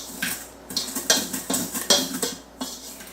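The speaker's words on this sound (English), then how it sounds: "we're just going to mix this by hand first" Dry ingredients for a chocolate cake are mixed by hand in a bowl, with a utensil scraping and clinking against the bowl in quick, repeated strokes, close and alone.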